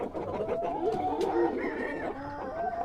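Jersey Giant chickens cluck steadily with a rooster crowing among them, a busy, close flock of farmyard fowl in Namangan's Norin district with no voices present.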